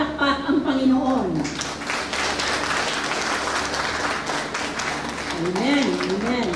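A church crowd at an evangelism event claps steadily in loud, sustained applause, with a voice speaking briefly before and again near the end.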